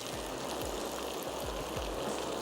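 Water poured into a pot of simmering mutton stew to make gravy, a steady even rushing and splashing that runs throughout with no voices.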